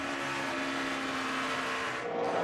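ARCA stock cars race past on the track in 2014, giving a dense, steady roar of engines and tire noise at moderate distance, unbroken and with no talking.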